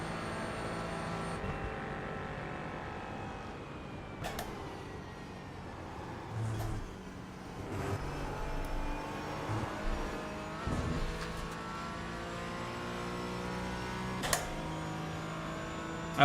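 LMP3 prototype race car in an iRacing endurance event, its engine droning and shifting pitch as it runs close by, layered over other car engines throughout a long steady stretch with no talking.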